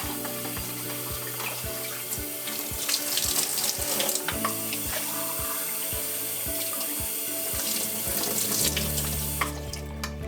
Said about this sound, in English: You can rinse it a few times if you want, get the soap off.